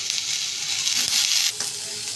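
Onions and tomatoes sizzle in a pan for a Chinese-style baby corn dish, a loud, close, continuous hiss with a brief swell in the middle and no speech over it.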